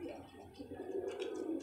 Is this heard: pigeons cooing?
yes